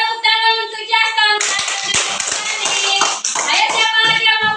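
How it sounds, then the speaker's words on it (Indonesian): Children in an elementary school classroom break into a burst of loud, close applause, many hands clapping together for several seconds after a teacher's spoken prompt. "Ayo tepuk tangan untuk Justin."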